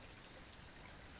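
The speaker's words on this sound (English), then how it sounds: "there's water dripping down off the hillside there." Water trickles and drips down a rocky hillside outdoors, a faint, steady wash of splashing with no distinct individual drops standing out.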